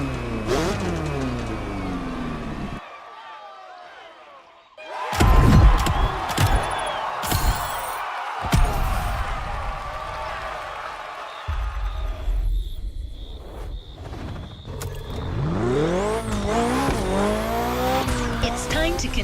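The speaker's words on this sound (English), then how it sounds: "wonderful to see this car taking over the roads of Maui" A car in The Crew Motorfest racing game roars along the roads of Maui, its engine revving and sweeping up and down through gear changes, with loud tire squeals and skids, plus stretches of near silence and mixed game effects.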